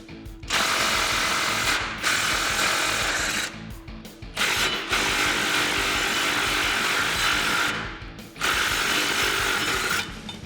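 A ratchet clicks quickly and steadily while loosening the nuts holding the front bumper to the frame of a Jeep Gladiator JT. Three long, loud bursts of rapid pawl clicking are heard close up, with brief pauses between them.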